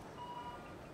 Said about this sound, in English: Stop the beeping.